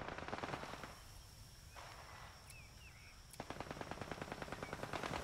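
Rapid bursts of automatic gunfire in a VR shooter game, a dense stuttering volley up front, a short lull with faint clicks and chirps, then another fast rattling burst.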